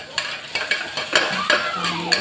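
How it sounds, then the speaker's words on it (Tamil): Grated raw mango being sautéed in a pan, with a spoon stirring and scraping through the mixture over a steady sizzle, each stroke giving a sharp clatter up close. "இந்த மாங்காயையும் இதை போட்டு கொஞ்சம் வதக்கிடுவேன்."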